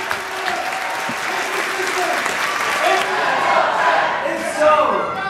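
Crowd applause at a political rally for Ron Paul in Dearborn, Michigan: loud, dense clapping from a large audience, swelling slightly with scattered cheers and voices mixed in.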